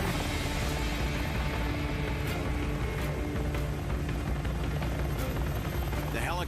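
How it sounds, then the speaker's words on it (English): Medevac helicopter evacuating wounded soldiers during Army Ranger assessment and selection training, a loud, close, unbroken roar of rotor wash and engine that fills the whole clip, with voices faintly buried beneath it. "The helicopters evacuate the wounded"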